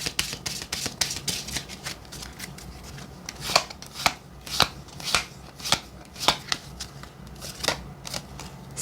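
Lenormand cards are shuffled continuously in a close, rustling flutter with crisp snapping riffles at a steady rhythm; no one speaks.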